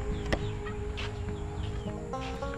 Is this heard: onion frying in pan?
no